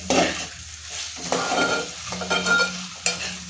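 Steamed tinda (round gourd) pieces stirred with salt in a pan, giving close scraping and clattering strokes over a soft sizzle, in uneven bursts with no voices.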